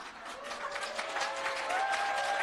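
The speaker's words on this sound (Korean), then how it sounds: "첫 강의인데 이렇게 또 환호를 해주시고" Applause and cheering from an audience after a first lecture on skincare products, a steady dense wash of clapping throughout, moderately faint with no speech over it.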